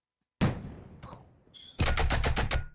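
A voice mimics cannons firing from a ship: a breathy blast, a short whistle, then a loud rapid volley of about six booming shots close together.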